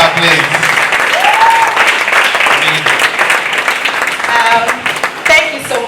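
A crowd gives loud, sustained applause to welcome and celebrate someone speaker at a plastic-challenge finale at the University of Lagos, with a few voices calling out over the steady clapping.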